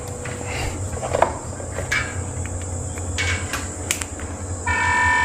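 A small water fountain pump motor runs dry with too little water, giving a steady buzzing hum with scattered rattles and clicks and a thin high whine that grows stronger near the end.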